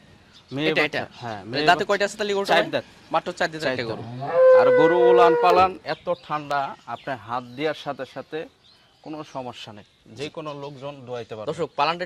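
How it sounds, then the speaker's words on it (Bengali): Friesian dairy cows on a farm, one loud, drawn-out moo near the middle with a couple of fainter lows around it, heard beneath steady close talk from a man. "এই ফ্রিজিয়ান গরু দেখেন আপনারা"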